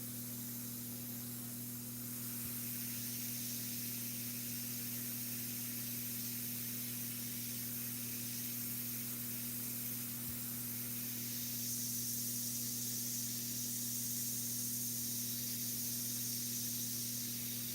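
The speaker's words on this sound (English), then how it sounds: "Spray mostly on the stencil if you're trying to get a dark line." Airbrush spraying Createx illustration paint over a stencil on a red Corvette Stingray artwork, a steady soft hiss running continuously at low level over a constant electrical hum.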